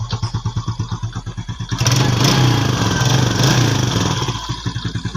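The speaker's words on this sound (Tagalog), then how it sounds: "Yun po yung sound check ng motor ko." A stock Yamaha Sight 115 F.I. motorcycle engine idles with a rapid, chugging putter and a slight knocking, revs up loudly for a few seconds with a roar, then settles back to idle.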